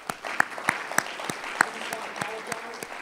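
An audience at a legislative policy forum breakfast claps steadily for about three seconds, a dense, even patter of many hands with a few sharper claps standing out near the front.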